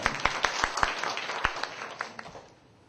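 Audience at a church forum claps for a speaker, a series of distinct, fairly quick claps that thin out and fade toward the end, heard in a hall with some room echo.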